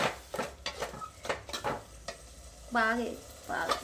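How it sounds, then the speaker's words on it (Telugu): Ginger garlic paste mixture frying in a pan, with soft sizzling and repeated stirring scrapes of a utensil against the pan, plus a brief voice midway. "వేసుకొని బాగా వేగించుకోవాలి."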